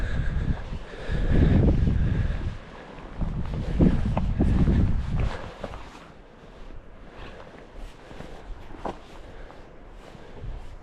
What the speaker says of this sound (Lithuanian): Vėjas jaučiasi.